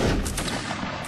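Massed musket volleys crackle continuously in a Napoleonic Wars battle in Mount & Blade: Warband, a dense, loud roll of overlapping shots with a few sharper cracks standing out and no talk.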